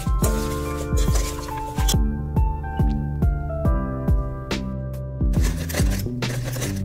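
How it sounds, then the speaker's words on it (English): Salad being tossed in a bowl with blue cheese and a homemade dressing of olive oil, lime, honey and soy sauce, a series of regular crisp rustling and clattering strokes at close range. "toss the salad"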